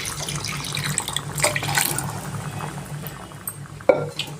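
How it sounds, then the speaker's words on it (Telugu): Mutton stock is poured into a pan of brinjal curry, a short close splashing gush with small bubbling spatters and a final splash. "మనం బాగా చేసుకుంటే మటన్ వాటర్ని వేసేద్దామండి."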